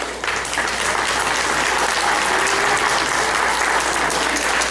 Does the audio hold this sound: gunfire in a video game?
no